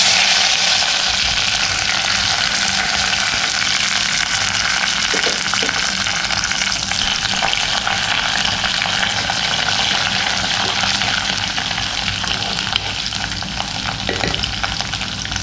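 Garlic, ginger and curry leaves sizzle loudly in hot oil for a mackerel curry, a dense continuous hiss close up with faint stirring and no talking.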